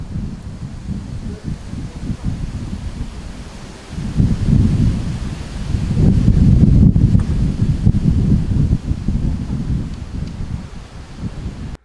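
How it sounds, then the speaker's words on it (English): Strong wind on a windy day beside a field fence roars in long gusts against the microphone, building and easing over a steady rushing bed with the rustle of blowing trees, loud throughout and with no voices. "You can see how strong that wind is really by the amount of seeds that's blowing off the sycamore."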